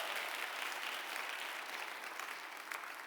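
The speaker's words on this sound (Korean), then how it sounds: "여러분 그 박수로 환영하시죠." Welcoming applause from a church congregation during a service, an even, continuous patter of many hands clapping at moderate distance with no voices over it.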